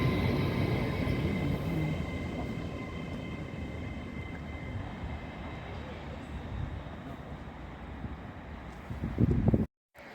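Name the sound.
Lumo train approaching platform at Northallerton station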